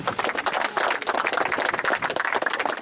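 Dense applause from an audience at a Brussels ceremony presenting new binational members, a steady wash of many clapping hands sustained and fairly loud from start to finish.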